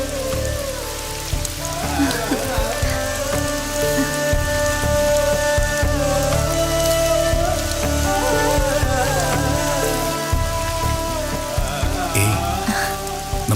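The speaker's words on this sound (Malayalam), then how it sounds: "പനോലപ്പുറത്ത് മഴ കൊട്ടുന്ന താളം, തൂവാനം കൊണ്ട് ഇടയ്ക്കിടെ എന്നെ കൈനീട്ടി തൊടുന്ന മഴ." Monsoon rain drums on a roof in a steady, close patter that continues throughout, with soft music playing underneath.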